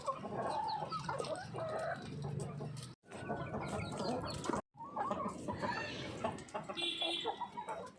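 Chickens cluck busily while being fed scraps and grain, a dense mix of clucks and calls close by, with brief pauses and a person talking in the background.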